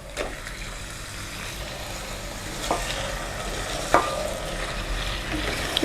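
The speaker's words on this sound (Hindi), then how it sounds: "इसको थोड़ा प्याज के साथ फ्राई करेंगे मटन को" Mutton pieces frying with onions in a pan give off a steady, moderate sizzle with a few sharp stirring scrapes and knocks, heard alone without any talking.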